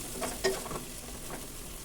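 Salt and chili powder frying with mushrooms in a pan for pulao, a brief close sizzle with a soft stirring scrape.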